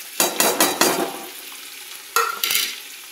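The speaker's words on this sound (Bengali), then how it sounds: "এবার আরেকটু ভালো করে ভাজবো" Mixed vegetables with grated ginger, green chilli and spices being stir-fried in a pan, a few quick scraping stirs over a steady sizzle, then a pause and two more stirs, close and alone.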